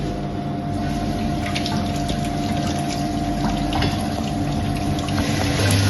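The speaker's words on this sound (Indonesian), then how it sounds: "Setelah itu nyalakan keran debitnya." Steady rushing water pours continuously from a flow tap on an impact-of-jet lab apparatus, with a constant low mechanical hum underneath and no pauses.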